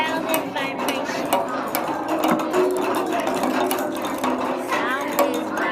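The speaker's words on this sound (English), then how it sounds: "the dude wants you to play the balloon drums" Children drumming on balloon drums in a third-grade science class, a busy stream of rapid taps and thumps with a constant murmur of voices beneath.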